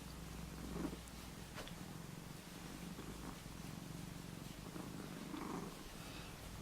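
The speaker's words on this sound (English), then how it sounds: "You can hear him purring away" Close, steady cat purring rumbles continuously in a quiet room, low and soft, with a few faint rustles.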